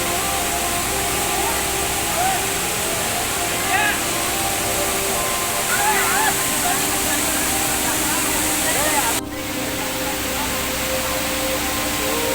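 A constant broadband roar of rushing water from Satodi Falls near Yellapur fills the whole clip, with faint voices chattering underneath.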